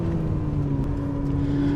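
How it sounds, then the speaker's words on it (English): A Ferrari 849 Testarossa V8 engine held at high revs, a loud steady droning roar with a constant pitch for a couple of seconds. "Now this V8 at full chat, it is loud"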